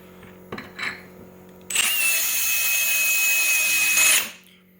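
A worn arrowhead drill bit grinds into porcelain tile in one loud, steady burst lasting a few seconds, with a bright, sustained whine. It follows brief scraping touches and ends abruptly.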